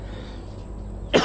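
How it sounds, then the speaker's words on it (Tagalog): A single short cough bursts out right at the end, close and fairly loud, after a second of quiet room noise. "Inuubo na."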